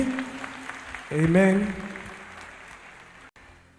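A church congregation claps in welcome for a returning member, a short burst of applause that swells and then fades, mixed with voices and a spoken amen.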